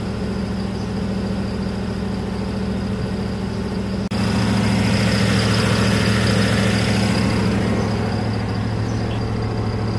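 A car engine idling roughly while the transmission sits in park, giving a steady, loud, close-up drone that grows fuller and slightly louder partway through, with no talk over it.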